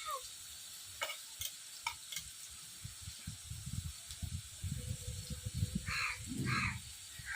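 Potato pieces fry in oil with salt and turmeric in a Bengali village kitchen, stirred in a pan with soft intermittent scrapes over a low sizzle that grows busier toward the end, with no talking.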